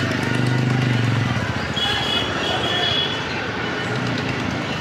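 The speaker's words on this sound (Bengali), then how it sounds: "ট্রেন চলে যাচ্ছে কাশিমবাজারে" A train passes near Kasimbazar, running toward Berhampore, as a steady broadband rumble that fills the whole stretch at close range, with faint voices mixed underneath.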